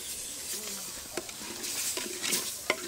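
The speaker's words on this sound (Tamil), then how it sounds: "இப்போ இந்த அளவுக்கு தக்காளி எடுத்துருக்கோம், அந்த தக்காளியும் போட்டு நல்லா வதக்கிக்கலாம்" Tomatoes with ginger garlic paste sauté in a pan for a village country chicken curry, giving a soft hiss and gentle sizzle with a few light stirring scrapes, close and fairly quiet.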